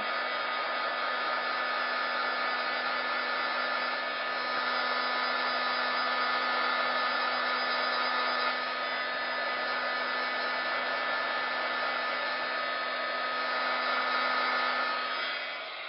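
A handheld heat gun blows hot air over paper butterflies, giving a steady, close, continuous whooshing drone with a constant tonal whine, unbroken for the whole stretch.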